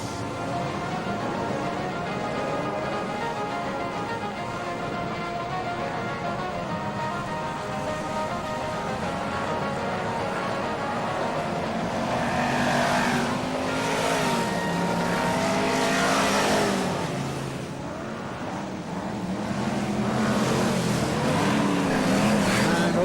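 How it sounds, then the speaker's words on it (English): BriSCA Formula 1 stock cars race the grand final at Kings Lynn in 1995, a massed engine roar rising and falling as the pack passes, with crowd and track noise mixed in. "BriSCA Formula 1 stock car grand final, 20 racing laps ahead of us"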